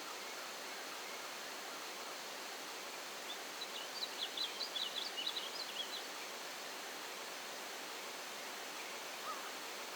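Steady broadband rush of a waterfall in the River Ganges level of the video game Tomb Raider 3, constant and even, with a few faint chirps briefly over it midway.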